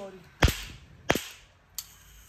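Toy gun fired during Eid celebrations: three sharp, loud cracks spaced roughly two-thirds of a second apart, the last one weaker, each snapping out cleanly against a quiet background.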